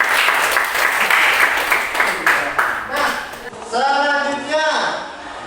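Classroom audience applause during a teacher practicum session, dense clapping filling the first half before fading as a voice begins speaking over the dying claps.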